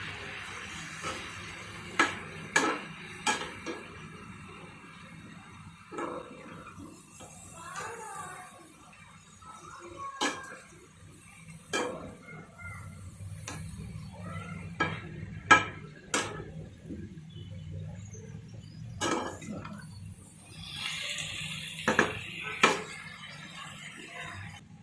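Sugar being stirred into sweet potatoes in a pan over a low flame: scattered clinks and scrapes of a spoon against the metal, some louder than others, over a faint, quiet background.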